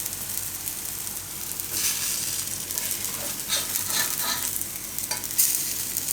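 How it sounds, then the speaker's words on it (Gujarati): Chili bhajiya shallow-fry in a little oil on a griddle, sizzling steadily up close while a spatula scrapes and turns them, with louder stirring bursts partway through. "બે બાજુ આ રીતે શેકી લેવાના તો આને બે બાજુ આ રીતે પકાવી લીધા"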